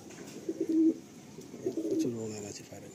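Madrasi pigeons coo in a loft, two low throaty cooing phrases close by, separated by a short pause, over a quiet room background.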